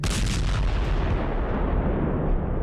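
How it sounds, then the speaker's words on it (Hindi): A night-time explosion from a strike in Sevastopol, Crimea, roars as a continuous, dense rumble that holds steady and heavy throughout, with no voices. "एक धमाका और बड़ी तबाही।"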